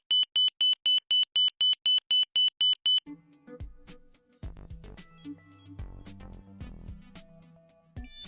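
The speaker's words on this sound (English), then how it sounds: "The marker's audio signal is a repeated Morse-style dot at 3 kHz." An ILS marker beacon tone sounds as a fast train of about a dozen short, evenly spaced high dots, loud and clean for three seconds, then gives way to quieter unrelated clattering sounds.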